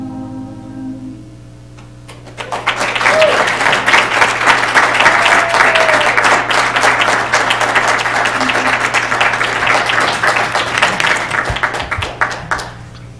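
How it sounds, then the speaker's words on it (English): Audience applause for the Gonzales Community School Advanced Choir at a school board meeting: after a quiet start, dense, steady clapping swells in at about two seconds and fills the rest of the clip. "Let's give them another round of applause."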